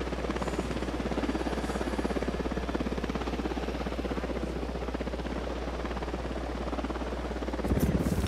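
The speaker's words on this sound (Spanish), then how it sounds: "Vale, está descendiendo el helicóptero." A helicopter descends in the video game Ghost Recon Wildlands, its steady rotor drone and whine loud and continuous throughout, with a brief shift near the end.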